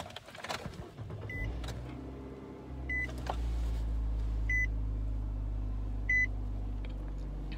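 A car starting up on a cold day: a few rustles and a door thunk, then a low engine rumble settles in steadily, with a soft electronic chime repeating four times at even intervals.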